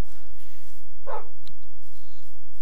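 A wolf in the Minecraft video game gives one short, sharp bark or yip around the middle of the clip, clear against near silence, with no talking.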